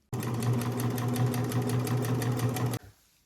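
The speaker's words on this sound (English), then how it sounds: "take this to the sewing machine and just sew down this edge right here with like a 1/8 inch seam" A sewing machine stitches a 1/8 inch seam along the edge of a pillow back panel, a close, loud, rapid mechanical chatter running steadily for under three seconds before stopping abruptly.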